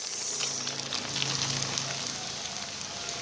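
Promolyo kerupuk crackers fry in hot oil with a dense, steady sizzle and crackle, loud and close, with no talking.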